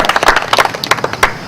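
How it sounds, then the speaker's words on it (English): An audience at an African panel discussion on religion and development claps, a brief, close burst of many overlapping hand claps. "Let's also clap for him."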